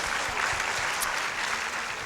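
Audience applause at a literary festival talk, following a young girl's question: steady, dense clapping from a crowd, sustained and even throughout, heard without any voices.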